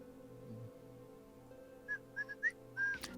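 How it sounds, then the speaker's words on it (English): A faint whistled tune of a few short rising notes, sounding in quick succession over a quiet, steady background hum with no talking. "Something whistling a tune."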